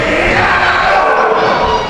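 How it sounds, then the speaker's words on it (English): A wrestling event crowd roars in a dense, continuous wall of cheering and shouting, loud and close throughout with no clear individual voices. "Listen to that crowd! They want him to be knocked out."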